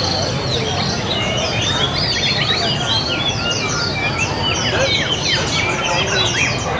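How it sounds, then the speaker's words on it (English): Pet birds chirping in a bird cafe in Saigon, a dense, continuous chorus of many overlapping tweets and whistles over a steady background hum of the room. "They bring their pet bird and have a coffee?"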